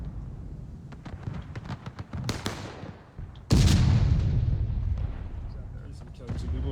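Cannon artillery fire in the Civil War video game War of Rights: scattered distant booms and crackling shots, then a loud close cannon blast with a long rumbling tail, a voice talking faintly underneath.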